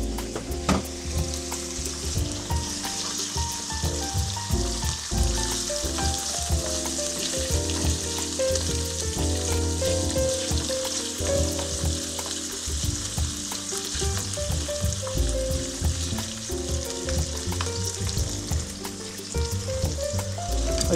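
Vegetables stir-fry in a pan with a steady, close sizzle and crackle, broken by light stirring clatter and no talk.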